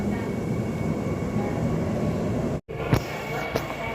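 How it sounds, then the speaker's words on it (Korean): A Seoul metropolitan subway train pulls away as a steady, loud rumble of wheels and motors that fills the space, then cuts off briefly before a couple of sharp knocks and clanks ring out. "열차 출발합니다."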